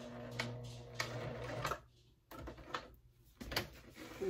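A home sewing machine back stitches on fabric for a simple bag: a steady close mechanical whir for about a second and a half, then quieter pauses broken by a few short stitching bursts.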